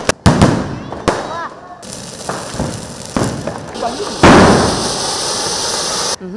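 Firecrackers bursting at a festival celebration, with sharp loud cracks and bangs at irregular intervals, some clustered, others leaving crackling tails, with voices talking amid the blasts.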